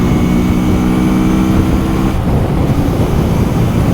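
A 2023 QJMotor SRV300 cruiser motorcycle engine runs steadily with a loud, dense low rumble and buzzing drone that holds without revving throughout.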